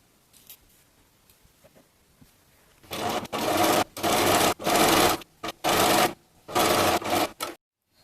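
A sewing machine stitches the seam of a handmade pumpkin pie pillow, starting after a quiet stretch with several loud, steady bursts of running broken by brief pauses.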